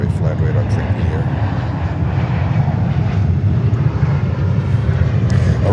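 A passenger airplane passes overhead at JFK Airport in New York, its loud, steady engine roar filling the whole stretch with a deep rumble and no break.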